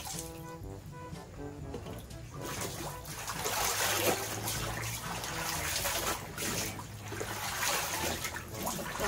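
Water runs and splashes steadily while clothes are washed by hand, a continuous trickling wash with some clatter and movement throughout.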